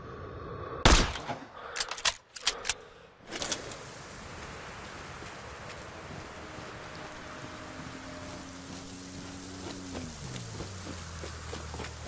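Sniper rifle shot in Sniper: Ghost Warrior 3, with a few sharp, loud cracks early on that echo into a steady ambient hum and a faint tonal drone afterward.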